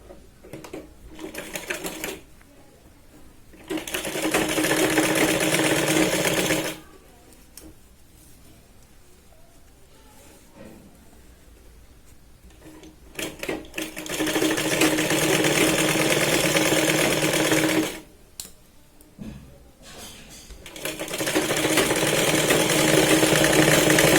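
A sewing machine stitches the lining along the edge of a Katori blouse in three loud, steady runs of whirring and rattling, separated by quiet pauses.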